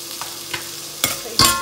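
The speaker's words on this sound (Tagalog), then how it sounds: "So unahin natin yung luya sa yung ating sibuya." Ginger and onion hit a hot pan and are stirred, giving a few close, short sizzling bursts and scrapes, the last two louder.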